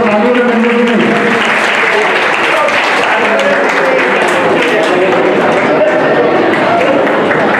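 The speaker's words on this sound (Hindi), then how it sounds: "तालियों के साथ स्वागत" Sustained applause from an audience at a women's group staged Jain drama about Bharat and Bahubali, dense continuous clapping with crowd murmur and some voices mixed in, loud throughout.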